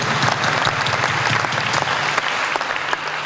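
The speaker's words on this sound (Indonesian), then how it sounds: "Boleh kita berikan tepuk tangan bagi Tuhan Yesus." A crowd at a church youth jamboree applauds loudly and continuously, a dense wash of many hands clapping that stays steady from start to finish.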